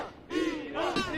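Iranian football fans shout a loud group chant beside a monument in Kazan before a match, many voices rising together in a sustained, rough crowd cry.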